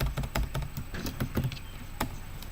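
Typing on a computer keyboard, a quick irregular run of close, crisp key clicks and taps over a faint background hum, no speech.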